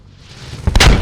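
A missile shot in the tank game Armored Squad: after a low building rumble, a loud, close booming blast bursts out and rings through the final moments.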